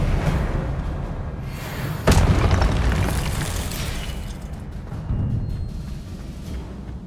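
Spell explosions in the Hogwarts Legacy video game: loud booming blasts, a sharp heavy burst near the start of the second third and another mid-clip, over a continuous rumbling roar of battle with no talking.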